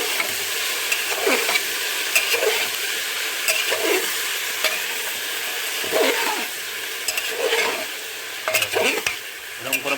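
Tomato, spinach, green chili and eggplant being stirred in a frying pan for khichuri, a steady sizzle broken by repeated rhythmic spatula scrapes, close and without talk.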